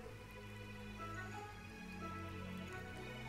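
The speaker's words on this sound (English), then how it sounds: "Rainy time in Mafia Town." Steady rain falls in Mafia Town in the video game A Hat in Time. It makes a faint, continuous patter and hiss with no pauses or talking throughout.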